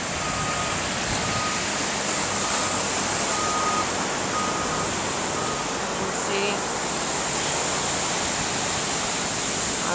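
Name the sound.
ocean waves surf at beach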